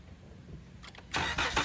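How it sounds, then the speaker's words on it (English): A car engine is cranked and fires up during a battery cranking test, a quiet lull followed by a short starter burst and then the engine catching loudly and running, with no talking. "It determined that the engine was started and it's cranking normal."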